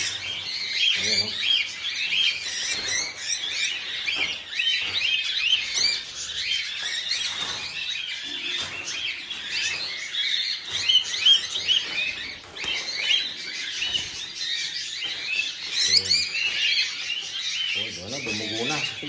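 Birds chirping and calling steadily outdoors at a harvest, a dense busy chorus of bright tweets with scattered squeaky calls, fairly loud and continuous.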